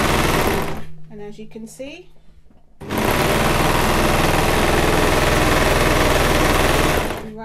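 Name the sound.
Brother 1034D serger overlocker sewing machine stitching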